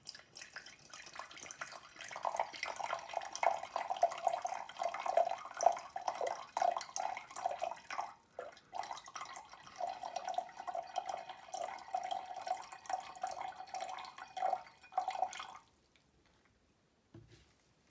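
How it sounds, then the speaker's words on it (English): Distilled water is poured into a fresh beaker for a chemistry preparation, a steady close trickle and splash running for about fourteen seconds before it stops and the room goes quiet. "In another fresh beaker, 200 milliliters of distilled water is added."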